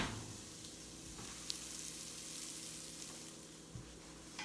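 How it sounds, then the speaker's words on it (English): Rice and yellow mung dal sautéing with spices in ghee, a low, steady sizzle running throughout with a few faint clinks of stirring. "So I'm sauteing them together in the ghee."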